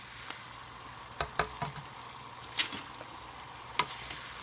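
Ravioli and cherry tomatoes are tossed in a tall pan over low sizzling, with a few soft scattered clicks and taps of the stirring, faint and close, no talk.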